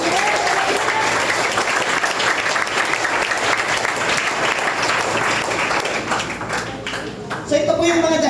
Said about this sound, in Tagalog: Malakas sa palakpak para kay Lord.